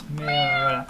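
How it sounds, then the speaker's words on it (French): A neighbour's cat meows at a door while trying to climb it, giving one clear, drawn-out meow up close, with a person briefly speaking over it. "J'ai un chat qui miaule chez moi"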